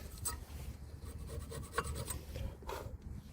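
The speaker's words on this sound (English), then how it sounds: "with the screwdriver we're just going to try and push away some of the old brake dust" A screwdriver scrapes old brake dust off a worn brake caliper during a brake pad change, giving short, close rasping strokes in quick succession, fairly faint with no talking.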